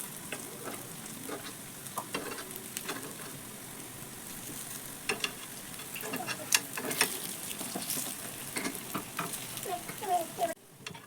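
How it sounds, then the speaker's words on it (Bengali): Snacks turned over and pan-roasted for healthy oil-free frying, giving a steady close sizzle with scattered scraping and clinking as pieces are flipped, a few sharper clicks near the end, no voices. "সব দিকেই সমান করে ভেজে নেব"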